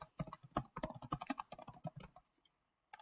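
Quick bursts of keystrokes clatter on a computer keyboard nearby, a fast irregular run of crisp clicks that stops for a moment and then resumes with a final few taps.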